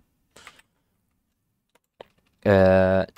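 C++ code being typed on a computer keyboard: a few short, close keystroke clicks in quick bursts, followed by a person starting to speak near the end.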